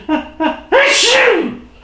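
A person sneezes close up: two quick sharp inhales build to a loud, drawn-out sneeze with a voiced trailing cry.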